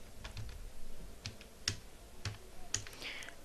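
Someone types a project title on a computer keyboard, a quiet, close series of irregular key clicks and taps spaced a fraction of a second apart, with no talking.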